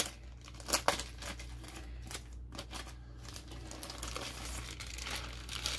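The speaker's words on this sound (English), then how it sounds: "And let's open this plastic bag." Close crinkling and rustling of plastic being handled and opened, with a few sharper crackles near the start, quiet and steady.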